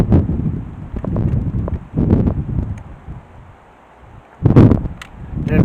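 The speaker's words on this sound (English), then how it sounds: "Here's that wind again." Gusty outdoor wind buffets the microphone in uneven low rumbling surges near a stable where an outside tap is being fitted, easing briefly before another strong gust.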